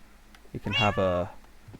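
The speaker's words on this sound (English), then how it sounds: "meow to you too" A cat meows once, bright and drawn-out, in a Minecraft world set in a little cafe and juice bar, following soft thuds.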